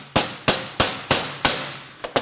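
Seven sharp metal hammer blows, with a short gap before the last two, knock apart the oil pump from a failed Ford/Mazda 2.3L MZR engine. The strikes are close and loud, each ringing briefly before the next, with no talk.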